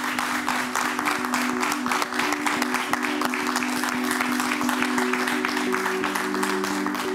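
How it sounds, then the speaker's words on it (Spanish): Sustained audience applause fills a hall in welcome of Paco Ureta, dense steady clapping at even loudness throughout, with a low steady hum underneath. "Un aplauso inmenso para Paco Ureta."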